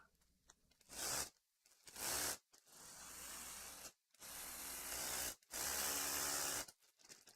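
Ratcheting and spraying bursts from a tool tightening parts during a Kyosho Optima Mid RC car build, several loud close bursts of a second or two separated by short pauses, with no talk.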